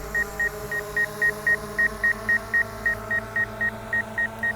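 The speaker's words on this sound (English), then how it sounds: "I didn't see any option to turn off that beeping either." Steady, evenly spaced electronic beeps, roughly four per second, repeat from a DJI Mavic Air 2 drone over a constant low motor hum, with no talking.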